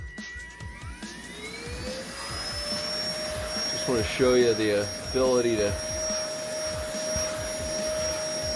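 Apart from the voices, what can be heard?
cordless handheld mini car vacuum cleaner suction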